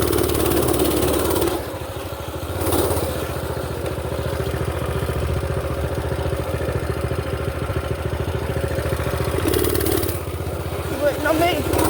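A small mini bike engine runs steadily throughout as it is ridden, a loud continuous buzzing drone with brief surges, while people talk over it.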